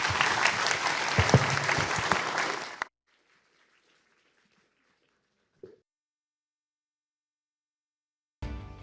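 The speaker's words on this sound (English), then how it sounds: "please join me with a round of applause for Stephen Mull and Matt Pottinger" Conference audience applause for two speakers, a dense burst of clapping that stops abruptly after three seconds, followed by near silence with a brief faint sound.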